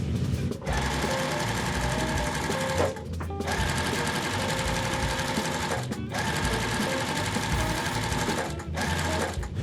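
Sewing machine stitching together pieces of quilt fabric from a layer cake, a fast steady whir of the needle running close and clear in long bursts broken by brief pauses.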